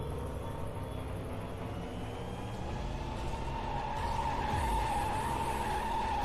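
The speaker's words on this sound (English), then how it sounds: "I do actually know to some degree though how to handle spinning out like that" Racing car in Hot Wheels World Race spinning out, a steady engine roar with a rising tire screech swelling near the end, continuous and fairly loud without talk.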